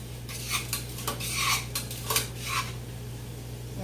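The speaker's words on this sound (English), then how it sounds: "Stir that together." A spoon clinks and scrapes against a pot on a stove while a meatless home-cooked meal gets stirred, making soft, irregular metallic taps over a steady low hum.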